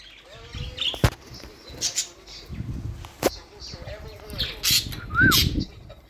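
A pet budgie gives short squawks and chirps with bursts of wing flapping, close by and intermittent, while a person speaks quietly in between.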